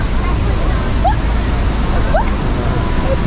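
Loud, constant roar of rushing water from a nearby waterfall, with faint voices barely audible beneath it.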